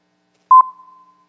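Brief pure test tone for a same-or-different pitch task, a short beep with a slight dip midway, then a faint fading tail in otherwise silence.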